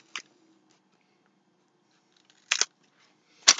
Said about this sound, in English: Let's cut open a sheet mask, and let's see what it looks like.